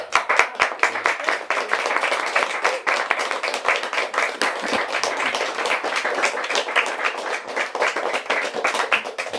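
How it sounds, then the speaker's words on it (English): Audience at a poetry reading claps for the readers, a close, dense patter of individual hand claps that continues steadily, with a few louder claps standing out. "Let's give a round of applause for our first set of readers, Scout, Amy, and Geraldine"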